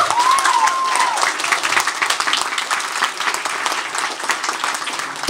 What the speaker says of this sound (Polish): Brawa dla Łukasza.